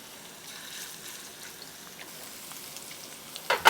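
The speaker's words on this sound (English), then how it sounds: "And it's nice and hot and sizzling." Soft, steady sizzling of salmon frying in a hot pan, a faint crackling hiss throughout that grows into a few louder pops near the end.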